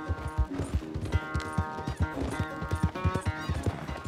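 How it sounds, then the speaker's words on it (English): Horse hooves clip-clop at a brisk, steady pace in Red Dead Redemption 2. The regular thuds are close and clear over a bed of soft game music. "Where's that big mean horse?"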